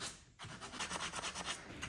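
Sandpaper rubbed by hand along the edges of a wooden monitor stand, a close, rapid series of rasping strokes after a brief pause at the start.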